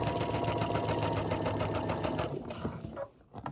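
A sewing machine runs a half-inch seam allowance with a fast, steady, close mechanical whirr and rapid stitch pulses, slowing and stopping near the end.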